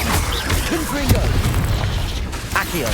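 A Confringo fire spell explodes in the Hogwarts Legacy video game, a loud boom and burst that sits within dense, continuous game combat noise and layered effects.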